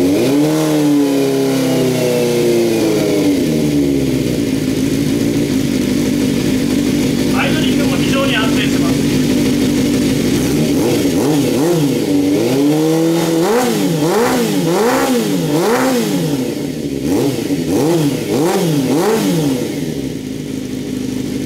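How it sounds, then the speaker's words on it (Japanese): A Suzuki GSX250S Katana motorcycle fitted with a Daishin full exhaust, loud and close, idling, then blipped through repeated sharp revs that rise and fall in quick succession, with a person talking over it. "非常にこのマフラーいい音しますね"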